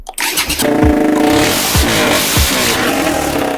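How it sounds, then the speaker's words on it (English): A KTM four-stroke motorcycle fitted with a two-stroke exhaust revs loudly up close after a quick start, the steady engine drone broken by several sharp throttle blips that rise in pitch. "Two-stroke exhaust on a four-stroke."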